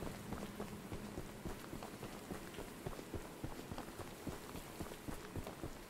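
Steady rain in the video game Choo Choo Charles patters on a surface with scattered individual drops ticking, a constant soft hiss, faint and continuous.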